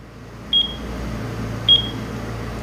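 A color-changing digital alarm clock gives two short, high button beeps about a second apart over a faint, steady room hum.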